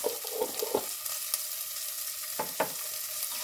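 A spoon stirring Indian gooseberry pickle with salt in a pan, giving a few soft scraping strokes over a low sizzle, close and fairly quiet.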